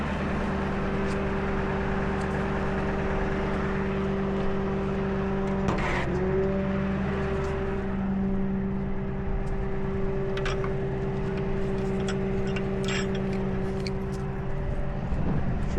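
A vehicle engine idles steadily and loud for the whole stretch, a constant hum with a brief disturbance partway, beside a winch setup for a burnt vehicle hanging off a cliff, with no talking.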